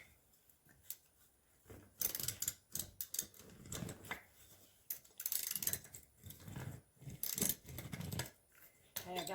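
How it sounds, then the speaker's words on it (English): A ratchet with an 11mm socket loosens a bolt while a bicycle tire tube is being replaced. Bursts of quick clicking come in several separate runs with quiet gaps between them, close by and fairly faint. "I've got my ratchet here. Got an 11mm on it."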